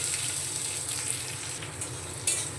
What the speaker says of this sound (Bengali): পেঁয়াজ কুচিটা হালকা ভাজা ভাজা করে নেব